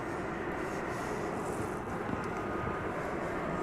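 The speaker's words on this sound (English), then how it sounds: "We've got another Super Cargo Master Martinair coming in from Tyler, Texas." Martinair Super Cargo Master freighter approaching DFW Airport at night, a steady distant low roar of jet engines that holds evenly throughout with no talk.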